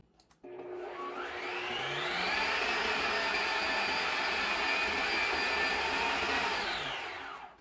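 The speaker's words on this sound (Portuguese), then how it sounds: "Pode bater com a batedeira normal mesmo, que também vai dar certo" An electric mixer beats cookie dough with a steady motor whine. It starts abruptly, rises in pitch as it speeds up, holds constant for several seconds, then winds down at the end.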